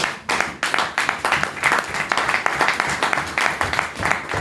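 A church congregation claps for Jesus during a Sunday worship service, a steady rhythmic burst of many hands clapping close and loud throughout, with faint voices beneath.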